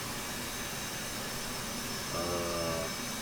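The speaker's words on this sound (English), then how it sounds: "You can hear the engine spooling up." F/A-18 Hornet jet engine in the DCS flight simulator spooling up during startup: a steady broadband roar that swells slightly near the end, where a rising whine of tonal harmonics sets in.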